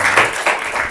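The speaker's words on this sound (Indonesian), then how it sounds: "Ya, kasih semangat, tepuk tangan" Brief burst of classroom applause from students in a small group, loud and close, lasting about a second with no talk over it.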